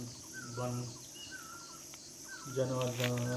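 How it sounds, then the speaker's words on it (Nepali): A cicada in a green forest in Ilam, Nepal, buzzes steadily in the background throughout, a constant high drone, with voices talking over it at the start and end. "झ्याउँकिरी निरन्तर कराइरहेको छ।"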